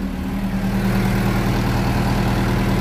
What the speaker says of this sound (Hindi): पहले से गाड़ी का काफ़ी आवाज़ साउंड और चाल मतलब इंजन चालू करने से ही पता चल जाता है